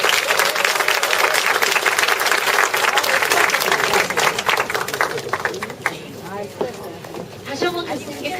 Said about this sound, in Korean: 다시 한번 교수님께 큰 박수 부탁드리고요